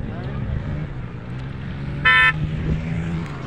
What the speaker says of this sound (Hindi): एडो ये गाड़ी भी निकल आई है माशाल्लाह